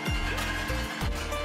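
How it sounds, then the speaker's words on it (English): A cooking grill switched on in a home kitchen gives off a steady broadband hiss and low hum, constant and fairly loud, with faint shifting low tones and no speech. "You can probably hear that noise in the background. That's just the grill that's on."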